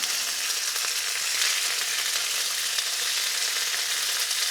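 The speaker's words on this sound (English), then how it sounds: "Once you've got it to how you want it, you throw in the sauce" Sauce hitting a hot pan of browned meat for bunny chow, a loud, steady, close sizzle and fry hiss with a faint stirring texture.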